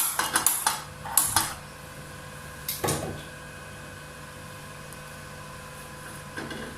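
A metal pan clanks onto a kitchen stove to heat oil for spicy chicken-stuffed capsicum bajji. Several sharp clatters come in the first seconds and another knock follows, then a faint steady hum.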